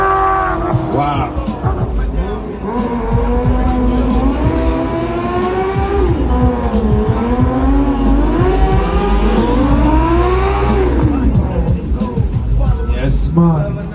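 Kawasaki motorcycles drag racing at a St Lucia strip, engines screaming through rising and falling revs as bikes launch and run, loud and continuous with a crowd and commentary-like voices mixed underneath.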